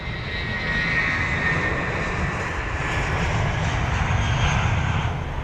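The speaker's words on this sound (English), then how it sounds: "It's going to be the next aircraft to depart." An Emirates Airbus A380 at London Heathrow gives off a steady, loud jet engine roar with broad rumble and a whining high tone, sustained evenly throughout.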